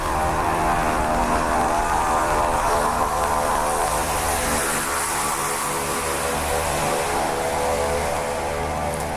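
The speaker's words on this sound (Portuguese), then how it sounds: "A moto passando aqui, fazendo muita zoada." A motorcycle passes loudly right outside, its engine drone holding steady throughout, with a harmonic hum rising and falling gently and no one speaking.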